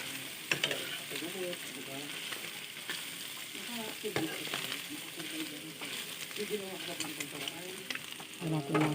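Onion and garlic sautéing in a pan for chicken intestines, a steady crackling sizzle with scraping stir strokes throughout, moderately loud and close, with brief voice-like fragments in the background.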